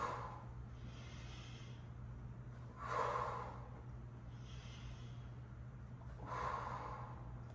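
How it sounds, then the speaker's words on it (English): Heavy breathing from a person doing an at-home leg workout with no equipment, with two loud exhalation bursts about three seconds apart over a steady low hum, plus fainter breaths between them. "Breathing in on the way down, out on the way up."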